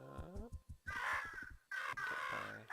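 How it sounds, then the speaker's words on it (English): Crows in the puzzle game Monument Valley give two loud, harsh caws in close succession, with a voice briefly talking at the start. "Well, that's a lot of crows."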